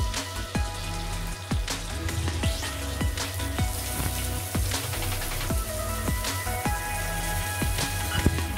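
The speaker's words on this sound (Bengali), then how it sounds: "এই পেঁয়াজটা ভেজে নেব" Onion sizzles in oil in a pan after potatoes have been fried out for a fish curry, a constant crackling spatter with sharp pops throughout, close and fairly loud, with no talk.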